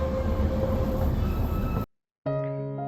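Darjeeling Himalayan Railway toy train on narrow-gauge hill track, a loud steady rolling rumble with a sustained tonal hum that cuts off abruptly, then a brief tonal whistle-like segment.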